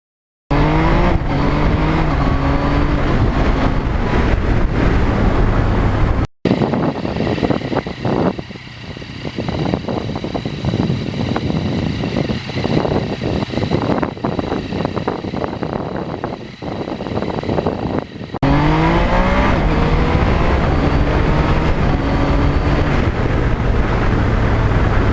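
Strong wind roars steadily over a 2020 Yamaha MT-09 motorcycle with a new windscreen on a cold, blustery day, a loud continuous rushing buffet mixed with engine drone, briefly cutting out twice.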